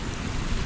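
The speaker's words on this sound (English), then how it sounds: "where the waves come and splash and all the water is running down." Ocean waves surge into a rocky blowhole in a brief, loud, broadband rushing splash of churning water.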